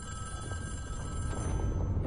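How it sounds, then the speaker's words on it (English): A telephone rings during a live in-game event in Fortnite, a steady electronic ringing tone sitting over a loud, dense game soundscape with low rumbling that swells toward the end. "Last time we heard the phone ring, it was the end of the other event."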